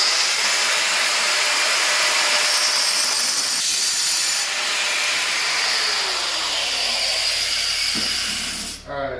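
A diamond blade plunge-cuts into ceramic tile on a shower wall, a loud, steady grinding whine with hissing friction that holds for several seconds, shifts slightly in pitch, then cuts off abruptly at the end.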